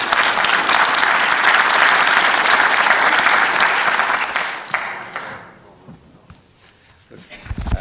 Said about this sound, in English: I'd like to join me in a round of applause for our panelists.